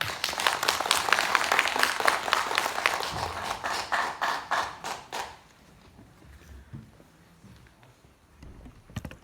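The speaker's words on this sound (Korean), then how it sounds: "힘찬 박수로 부탁드립니다" Audience applause greets a university professor of Confucian and East Asian studies arriving to give a lecture at an arts centre, with dense clapping for about five seconds that then fades into scattered claps and room noise.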